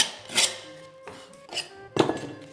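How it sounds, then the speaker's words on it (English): Scraping out old filler from a settlement crack in a nursery wall, a few sharp scratchy strokes and clinks spaced about half a second apart, close and fairly quiet with no talk. "So I'm just scraping out the old filler,"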